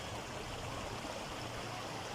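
A clear, shallow mountain stream flowing, a steady close rushing wash of water with no pauses or voices.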